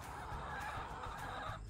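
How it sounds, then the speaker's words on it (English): Chickens cluck in a backyard farm coop, a brief run of soft, close clucks over a low ambient background, with no talking. "So here's the chickens."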